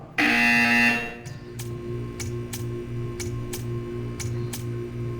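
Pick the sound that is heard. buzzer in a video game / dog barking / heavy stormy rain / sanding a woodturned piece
buzzer in a video game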